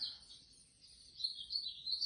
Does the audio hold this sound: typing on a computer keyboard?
no